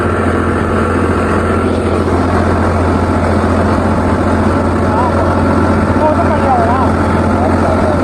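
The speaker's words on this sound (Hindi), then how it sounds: "भाई देखो सियाने में ट्रैक्टर से घूम रहे हैं।" A tractor engine runs at a steady low idle, with a constant rumbling drone throughout and rain expected outdoors; the engine noise fills the whole stretch with no clear speech.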